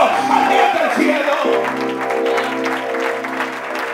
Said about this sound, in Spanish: Lo que tienes que hacer es darle un aplauso al Dios del cielo